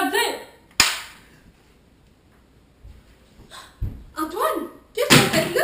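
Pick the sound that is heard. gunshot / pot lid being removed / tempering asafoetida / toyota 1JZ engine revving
gunshot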